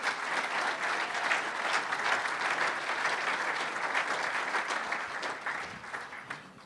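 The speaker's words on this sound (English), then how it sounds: "would you guys give those guys a round of applause as well?" An indoor audience at a charity event applauds its sponsors, a dense steady clapping of many hands that holds evenly for several seconds and then slowly tapers, with no talk over it.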